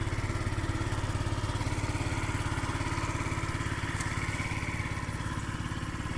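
A restored Yamaha Zuma scooter engine runs steadily nearby, a continuous buzzing putter with an even, rapid pulse and no talk over it.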